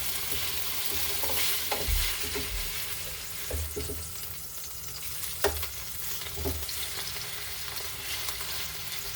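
Skipjack tuna sears in a pan, giving a steady close frying sizzle broken by a few soft knocks and scrapes as it is moved around.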